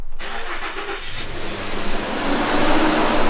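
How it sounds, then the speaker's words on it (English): A car engine cranks and catches, then revs up with a rising roar through an exhaust muffler freshly patched with JB Weld muffler cement, loud and close with no talk. "start the engine and see how the exhaust noise is compared to how it was before"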